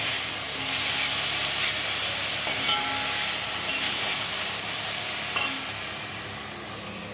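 Amaranth leaf mixture for fried rice fries in a pan, giving a loud, continuous sizzle and hiss broken by occasional scraping stirs of a utensil, with no talking.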